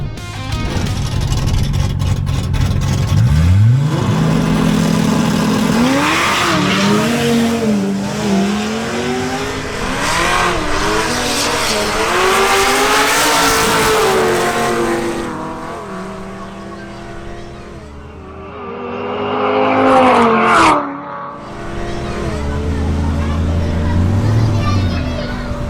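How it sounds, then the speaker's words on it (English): An Audi RS3 on a drag race run revs and pulls hard, its engine note rising through the gears and fading into the distance. A loud, steady wash of crowd and background noise sits underneath, with a final burst of sound near the end. "Next up, Fernando Martinez makes another run in his Audi RS3."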